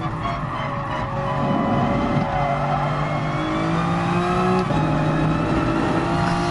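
A race car in the racing game Gran Turismo Sport takes a corner, its engine holding a steady droning note that shifts pitch as it brakes and accelerates, with a continuous loud roar throughout.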